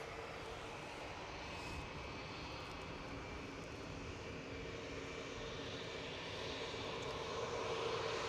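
An airplane taxis at Edinburgh airport, its engines giving a steady broad roar at a distance that swells slightly toward the end, with no talking.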